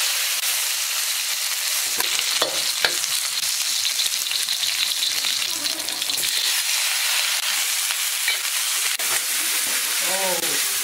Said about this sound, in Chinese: 在这个羊排要炒一下，放油，这些香料放上去爆香一下。